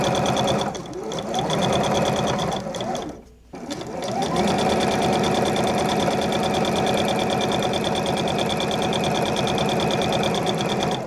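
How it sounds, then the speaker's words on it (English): A sewing machine runs loudly and close while sewing bias tape trim, a continuous fast mechanical hum with one brief pause before resuming steadily. "I can go ahead and fold over and sew the bias"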